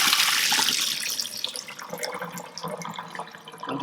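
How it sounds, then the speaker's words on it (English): Water drains off cooked kidney beans into a sink, pouring in a bright, splashing rush that is strongest at first and then settles into a steadier trickle, with no talking. "what you're going to do with the kidney beans is you're just going to drain off the water"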